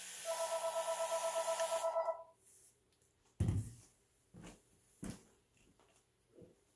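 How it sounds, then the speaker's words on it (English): A telephone ringing close by, a loud pulsing electronic ring for about two seconds, followed by scattered soft knocks and handling sounds. "That was the phone."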